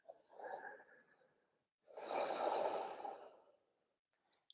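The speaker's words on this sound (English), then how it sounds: "Another 3 breaths here. Make the exhales long." Slow, deep breathing during a full-body yoga stretch: a short soft inhale, a pause, then a long drawn-out breathy exhale, close and quiet with no talking.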